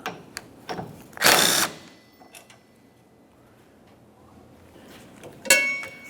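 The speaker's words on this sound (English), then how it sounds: "Under that, you'll find that you have a 17mm nut. Remove the nut." The 17mm wiper arm mounting nut comes off a 2006-2011 Honda Civic during wiper transmission replacement: two short, close bursts of a power tool whir, with light clicks and taps in between.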